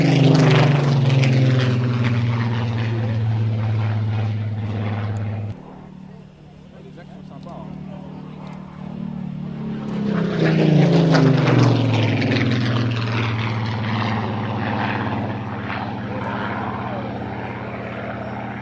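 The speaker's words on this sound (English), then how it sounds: "it's the later March 19 version with the big Griffin engine" A Griffon-engined Spitfire, a later Mark 19, roars past overhead. The heavy propeller drone swells, dips briefly, then rises again in a loud, sustained pass with a shifting pitch.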